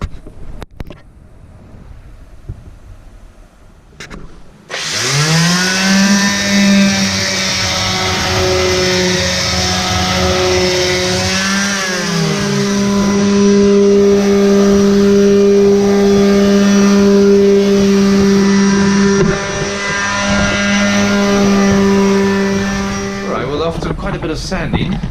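A power sander works on a filled spot on a boat hull, starting abruptly and holding a steady whining drone with a slight pitch change midway before cutting off near the end.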